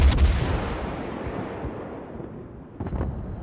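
Naval gun rounds in World of Warships, a light cruiser firing on a destroyer: a loud booming salvo at the start that fades into a long rumbling tail, then a second burst of shots near the end.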